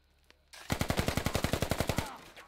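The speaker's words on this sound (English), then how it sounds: "They're shooting it. He's shooting the radio." A rapid automatic burst of about twenty closely spaced gunshots fires at a radio objective in a competitive shooter match. The shots are loud and close, last under two seconds, and are followed by a brief tail.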